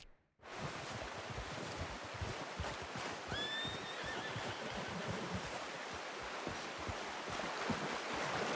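A horse neighs and whinnies in Red Dead Redemption 2 during a wild west deer hunt, with a steady bed of wind and ambient noise running under it and a brief higher whinny partway through.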